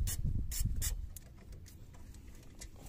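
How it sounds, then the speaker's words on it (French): Front brake caliper screw being loosened on a Peugeot 208 during a pad change, a few short mechanical clicks and ratcheting scrapes close by, quieter toward the end. "Donc là, je dévisse."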